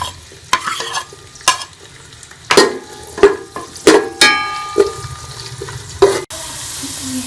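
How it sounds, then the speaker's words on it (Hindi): Onions browning in hot ghee sizzle steadily while a spoon stirs them, its sharp clinks and scrapes against the pot repeating every second or so, close and loud. "घी गरम होने के बाद इसमें प्याज शामिल कर लेंगे और प्याज को ब्राउन कर लेंगे।"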